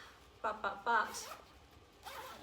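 The zipper of a Kathmandu packing cube is pulled in a few quick rasping strokes close by, then zipped once more after a short pause.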